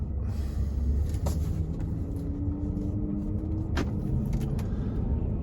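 A Range Rover L405 with its 5.0 supercharged V8 running steadily at idle, a constant low rumble close by, broken by a couple of brief sharper transient clicks.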